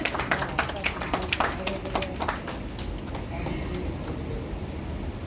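An audience claps for Moubani at a Bengali film-world event, a burst of hand clapping that is dense early on and thins toward the end, mixed with crowd noise and a speaking voice.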